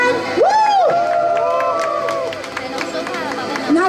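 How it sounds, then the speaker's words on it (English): A crowd at a ZOTAC booth event at Computex 2016 cheers and whoops loudly, with voices rising and falling over a dense babble and some scattered clapping. "Can I have a very big applause for them? Woo!"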